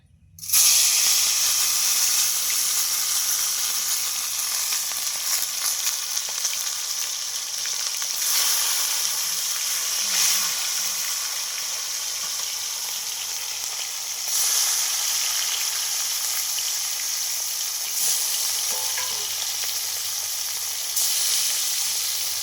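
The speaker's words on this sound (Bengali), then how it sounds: "এবারে তেল গরম হয়ে এসছে, এবারে আমরা মাছগুলো দিয়ে দিব।" Small cut pieces of baul fish frying in hot oil in a village kitchen, a steady loud sizzle and crackle running throughout with brief surges of spitting.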